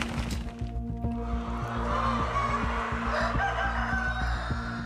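Chickens on a poultry farm cluck and crow under a steady mechanical hum, with short clucks and a crow rising over the continuous background.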